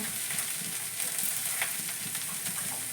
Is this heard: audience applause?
no